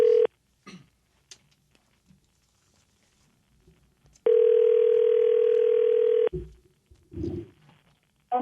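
A steady telephone dial tone sounds loudly for about two seconds while a call is being placed, with a short beep at the start, scattered clicks and handling noises, and brief murmurs around it.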